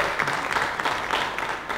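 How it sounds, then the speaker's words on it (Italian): A brief burst of audience applause at a World Space Week event in the Marche region of Italy, with quick overlapping claps held at an even level throughout. "un applauso doveroso."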